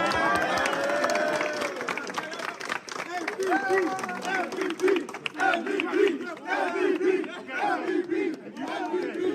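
A college convocation audience cheers and shouts in a large hall, with scattered clapping mixed into the rising and falling crowd noise.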